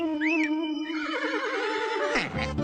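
A horse neighs loudly and close, a long quavering whinny with wavering pitch that rises and falls, ending in a brief snort-like flourish.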